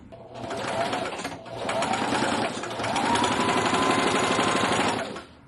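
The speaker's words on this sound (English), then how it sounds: "I'm going to take it to the sewing machine" A sewing machine whirs in three steady bursts of rapid stitching, briefly pausing between runs, close and fairly loud.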